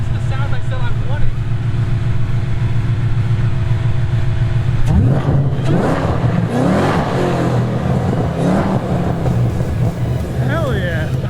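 A Ford Mustang S550 with a 5-liter engine, swapped to a Terminator-style sound, idles with a deep steady rumble and then revs hard and loud several times, with voices talking over it.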